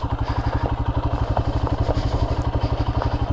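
Royal Enfield Himalayan motorcycle engine running steadily close by, a fast, even thumping pulse with light mechanical clatter riding on top, loud and alone.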